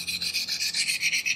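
A blade edge being sharpened to remove metal: quick, repeated scraping strokes in a steady back-and-forth rhythm, close and bright, with no voice.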